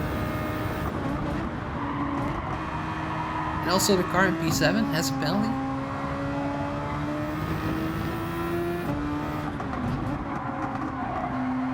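Race cars in Gran Turismo 7, Super Formula machines at Spa-Francorchamps, roar steadily with shifting engine pitch while tires squeal and skid midway through, as a commentator talks over the noise.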